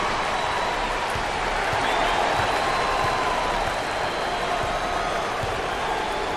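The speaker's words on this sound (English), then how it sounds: "Number 4 is receiving an enthusiastic response from the crowd." A crowd roars and cheers at a basketball game in the video game March Madness 08, a dense, steady wash of applause and noise heard on its own throughout.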